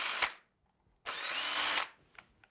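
A power drill bores holes into a frame for a window blind bracket in two short bursts, a brief whir followed by a longer, steady high whine, close and clear with no talk.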